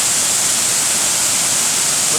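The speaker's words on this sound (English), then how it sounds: "A lovely waterfall." A waterfall at a secret spot near a hotel in Douglas pours in a loud, steady, broadband roar that holds unbroken throughout.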